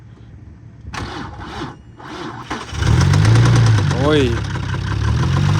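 A car engine cranks a few times, catches and roars to life, then settles into a steady idle; someone speaks briefly at the start.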